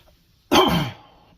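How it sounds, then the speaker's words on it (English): A single harsh cough, or throat-clearing hack, bursts out close to the microphone and fades within about half a second, alone in an otherwise quiet room. "sorry about the coughing."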